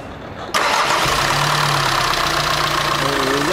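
Volkswagen Amarok diesel engine cranks briefly after a quiet moment, then catches and settles into a loud, steady, close idle with a rough knocking edge.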